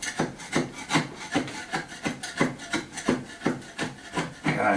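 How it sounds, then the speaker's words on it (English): A hand scraper works old material off a kitchen wall during a Spanish finca renovation, giving about a dozen rhythmic, close rasping strokes in steady succession with no talking. "I'm going to start off with a scraper."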